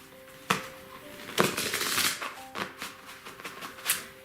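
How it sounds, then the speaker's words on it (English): Several brisk riffling bursts of cards being shuffled, close by, with soft flicks and taps between them; a faint steady hum runs underneath. "So I'll go ahead and shuffle up our first deck."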